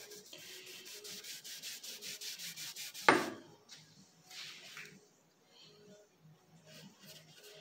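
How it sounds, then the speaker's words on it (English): A Dremel rotary tool sanding the rounded edges of a carved wooden walking stick, a rhythmic buzzing rub with pulsing strokes, a sharp knock midway, then quieter intermittent grinding. "take my Dremel tool back and just touch it up, make it nice and smooth and sand it down"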